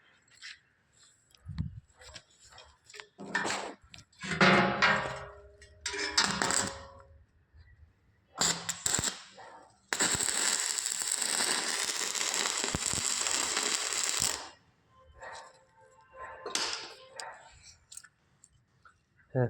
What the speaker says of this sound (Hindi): इस तरह वेल्डिंग चलनी है जी।